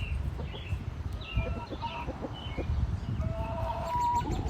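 Brahma hens cluck in short, irregular bursts close by, mixed with softer chirps from other chickens in the coop.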